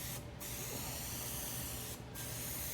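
Touch-up paint sprayed onto a flood-damaged 1972 Chevrolet El Camino, a constant close hiss of spray that dips briefly twice where the nozzle pauses.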